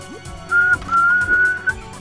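Someone whistles a series of short, sustained high notes with brief gaps, imitating a train whistle, clear and close with no talking.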